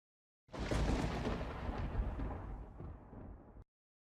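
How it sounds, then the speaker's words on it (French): Thunderstorm in the horror game Birdhouse: a loud, rolling crack of thunder bursts in suddenly and rumbles for about three seconds before cutting off, with no talk over it. "C'est la tempête, ok."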